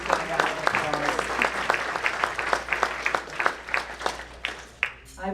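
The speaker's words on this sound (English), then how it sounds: "Please give a round of applause." Applause from a room of guests at a memorial foundation golf dinner, distinct individual claps over a crowd wash, sustained and fairly close, with talk mixed in.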